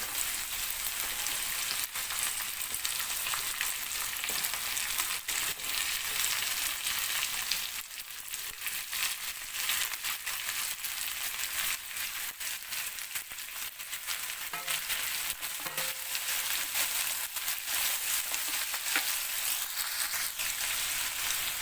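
Mixed vegetables for a Vidarbha-style Bhogi dish sizzle in a pan over browned garlic, onion and tomato, a dense, steady frying hiss that runs on without pause and with no talking.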